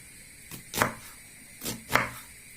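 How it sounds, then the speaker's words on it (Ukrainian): A knife cutting onion for borscht in a home kitchen, heard as four close, quick slicing strokes in two pairs against a quiet background. "Ріжу цибульку"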